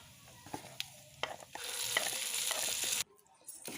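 Ground mint chutney hits hot tempering of mustard seeds, dried red chillies and curry leaves, bursting into a loud sizzle after a few spoon clinks, then stopping abruptly as stirring continues quietly.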